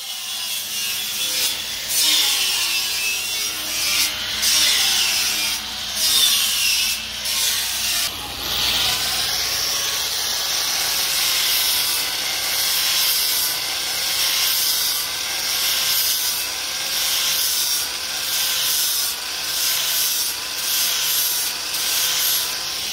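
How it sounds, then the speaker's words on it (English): An angle grinder works the welds on a steel off-road bumper for a 1st gen Tacoma or 3rd gen 4Runner, making a continuous harsh, high-pitched grinding and rasping close up that shifts in tone partway through, with no speech. "in the corners we grind the welds to a point, and then once we have a nice smooth straight point, it's really easy to round that point"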